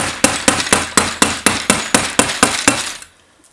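A hammer stapler strikes staples into roofing underlayment in ten sharp, evenly spaced, loud close-up blows about a quarter second apart, then falls silent.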